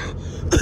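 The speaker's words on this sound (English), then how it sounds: "about to cough up a lung" A single harsh cough bursts out near the end after a brief lull, close and fairly loud.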